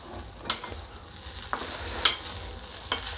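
A poha mixture being stirred in a pan, with a soft low sizzle underneath and a few sharp spoon scrapes and clinks spaced out across the clip.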